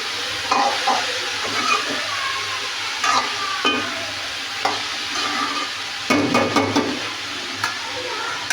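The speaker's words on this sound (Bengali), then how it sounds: "এখন আমি নাড়াচাড়া করে দিব।" Bottle gourd for lau shukto being stirred in a pan with bay leaves and salt, a series of close scraping, clattering stirs over a soft steady sizzle.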